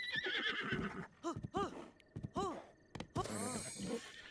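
A horse in the video game Zelda: Breath of the Wild whinnies and snorts several times in rising, wavering calls, mixed with clopping hooves and rustling movement, close and clear.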